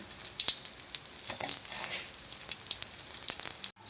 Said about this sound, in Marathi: दोन्ही बाजूनी आपण व्यवस्थित भाजून घ्यायचं आहे, शॅलो फ्राय करून घ्यायचं आहे.